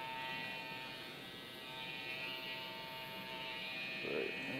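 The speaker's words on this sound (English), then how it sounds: "the trimmer." A hair trimmer buzzes steadily during a long trim haircut, a faint, even electric hum held close throughout with little change.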